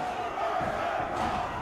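Arena crowd in the video game Saints Row The Third Remastered cheers and shouts at a Murder Brawl wrestling event, a steady, moderately loud roar of many voices.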